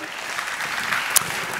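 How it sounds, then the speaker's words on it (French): Audience at a French care-home federation congress (21e Congrès SYNERPA) applauding a panel, a steady dense wash of many hands clapping at moderate volume with one sharper clap standing out near the end. "on vous remercie, on vous applaudit"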